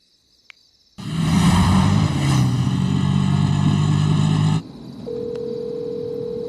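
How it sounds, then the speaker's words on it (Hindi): A loud, steady electronic telephone ring with a buzzing, layered quality plays at night for about three and a half seconds, then cuts to a quieter single tone against faint background hum. "इतनी रात में किसका फोन आ रहा है?"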